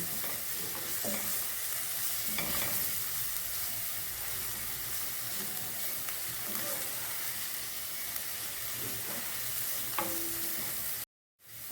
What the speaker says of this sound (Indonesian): Kita tumis lagi sampai harum.